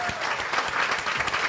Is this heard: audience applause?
yes